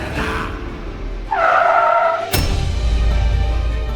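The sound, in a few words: car braking to a sudden stop with tire skid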